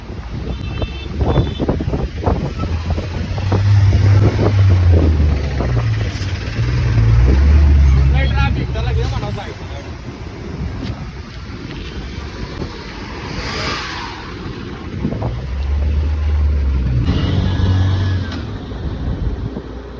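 Slow traffic on the road to Alibag rumbles around a car stuck in a jam, with low engine drone, wind buffeting and passing vehicles while people chat inside.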